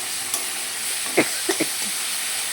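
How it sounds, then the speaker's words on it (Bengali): Spices and green peas frying in a pan, a soft steady sizzle with a few brief clinks of stirring over a quiet background, no talking. "আমি মশলা দিয়ে দিয়েছি তার সাথে মটরশুঁটি এবার এটা একটুখানি ভাজা ভাজা করে"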